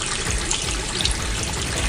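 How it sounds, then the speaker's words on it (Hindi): A bathroom tap runs steadily at midnight, a continuous close hiss and splash of flowing water with no voices, used as a horror radio story effect. "आधी रात को बाथरूम के नल से पानी बहने की आवाज से"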